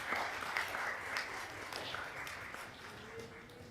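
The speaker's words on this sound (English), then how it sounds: "So a round of applause for them one more time." An audience claps for the debaters at the Tobago Day annual debate, steady applause from a distant crowd, faint and dense, without talk.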